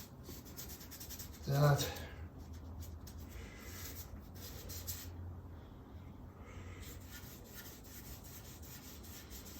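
A hand rubs Tru-Oil finish into wood, making a faint, steady scuffing texture. A sharp knock sounds near the start, and a voice briefly speaks.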